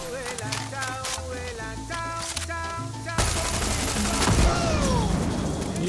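Rapid crackling bursts and pops fill the scene, a fireworks display in the game Far Cry 6, dense and continuous, growing louder and harsher partway through.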